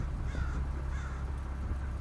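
A crow-like bird cawing outdoors, a few faint hoarse calls over a low rumbling background.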